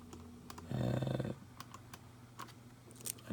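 Typing on a computer keyboard during video editing: a few sparse, quiet keystroke clicks spread over a few seconds, with a brief low hum partway through.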